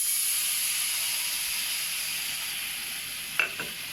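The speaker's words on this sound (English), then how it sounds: "we are going to deglaze with a little bit of white wine" Steady, loud sizzle and hiss from a pan of seared pork chops just deglazed with white wine, an even frying crackle that runs alone throughout, with a couple of brief clinks near the end.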